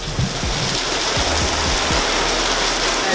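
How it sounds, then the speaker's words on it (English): Heavy pouring rain drums steadily on a car parked outside, a loud, dense, continuous hiss with faint low thumps underneath and no voices. "Some pouring rain. At least it's getting a good wash."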